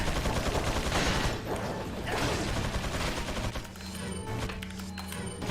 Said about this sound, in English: We're going to shoot the lock.